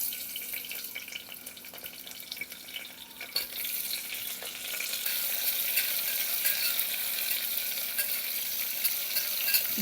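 Onions for prawn biryani sauté in a pan, a steady hiss that grows louder and denser partway through, with faint scraping stirs and no talk.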